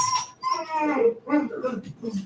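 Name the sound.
dogs howling and whimpering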